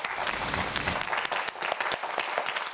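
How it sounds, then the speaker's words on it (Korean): Studio audience of a televised student quiz show applauds two competing students: dense, steady clapping fills the room, slightly fuller at the start and thinning into scattered claps toward the end. "두 학생 모두에게 큰 박수 보내주시기 바랍니다"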